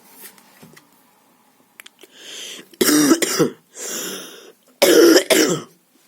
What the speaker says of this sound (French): Désolé les gens pour la toux